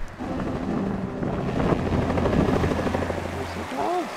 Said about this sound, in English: The coroner arrived by helicopter.